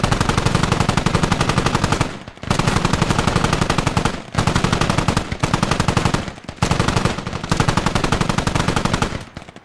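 Sustained bursts of KORD heavy machine gun fire in the Squad video game, a Russian position defending against attackers, loud and close, rattling in long strings separated by brief pauses.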